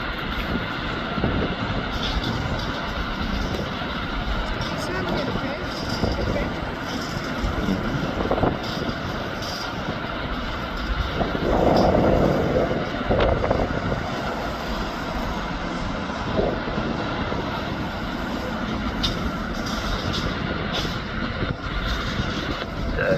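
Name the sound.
Embraer E190 jet airliner engines during departure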